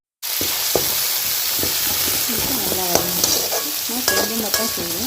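Tomatoes stirred into a hot frying pan while cooking chicken idiyappam biryani, a loud continuous sizzle with repeated scraping and clacking strokes of the spoon against the pan, close and alone.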